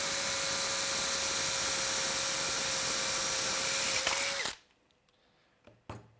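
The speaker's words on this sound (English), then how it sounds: "Then we can go ahead and drill this hole." Power drill boring a hole in an arm structure part held below clamps, a loud steady whine that runs for about four seconds and then stops abruptly, followed by near silence and a brief clunk.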